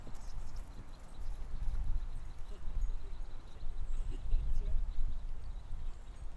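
A ridden horse's hooves clip-clop in a steady rhythm at close range over a riding-arena floor, with faint background noise and no clear talk.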